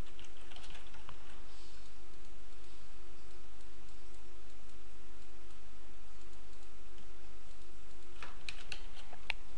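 Keystrokes on a computer keyboard while entering a name in Photoshop CS6, faint and sparse under a steady background hum, with a short burst of clicks near the end.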